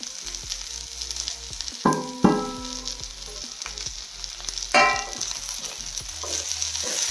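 Chighal greens sizzle in a hot pan as they are stirred with chilli and salt. A steady fry hiss runs under scattered scrapes and two sharper clanks of a utensil against the pan, with no voices.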